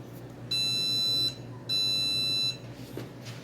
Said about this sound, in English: 2 long beeps. It means it's already connected.